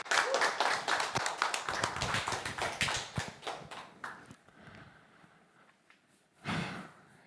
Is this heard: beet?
no